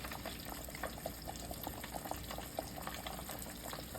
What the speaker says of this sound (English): Your grease being the right temperature is crucial when frying your fish.